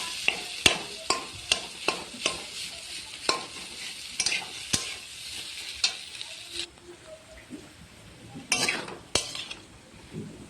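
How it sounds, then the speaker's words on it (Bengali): Boiled potato is mashed and mixed in a bowl, producing a run of regular clinks and scrapes of a spoon against the dish, then quieter squishing and a few louder knocks toward the end. "আলুটা ভালো করে মাখিয়ে নিতে হবে"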